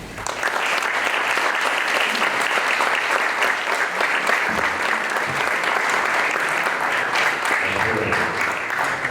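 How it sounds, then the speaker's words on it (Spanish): A conference audience applauds a guest speaker at a keynote lecture in Cuernavaca, with loud, dense, steady clapping from a large crowd that holds unbroken for the whole stretch. "Sin más, démosle un gran aplauso a nuestro gran invitado hoy, Javier Velasco."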